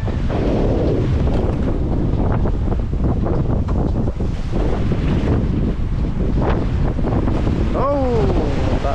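Strong wind buffets the microphone on a small fishing boat at sea during a storm, with big waves crashing and surging in a loud, continuous roar; a voice briefly cries out near the end.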